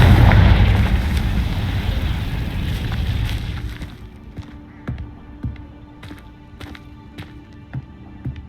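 Confringo blasting spell from Hogwarts Legacy: a loud, broad fiery blast roars at the start and fades out by about four seconds, followed by scattered light crackles and thumps.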